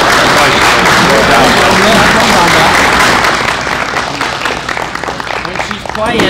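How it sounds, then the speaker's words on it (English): Loud, dense applause fills a county commission meeting room for an honoree, sustained clapping close by that thins slightly toward the end. "Let's give her a round of applause."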